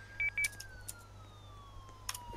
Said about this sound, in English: they had that siren going for 20 minutes now